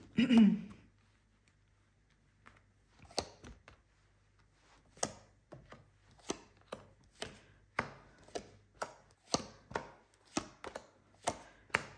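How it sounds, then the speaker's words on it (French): Tarot cards are laid out one by one on a table, each landing with a crisp, dry tap. The taps come at an uneven pace, close and clear in a quiet room, after a brief voice at the start. "On étale nos cartes pour tous les domaines de vie."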